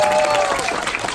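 Audience applause at a business owners' seminar as a presenter steps onto the stage: a steady, dense wash of clapping that holds at full strength for the whole second or so.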